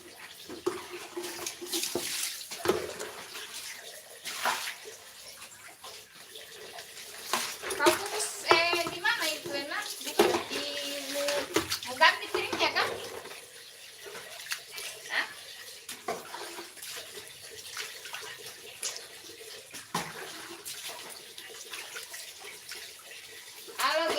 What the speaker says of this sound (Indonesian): Disiram pakai sabun.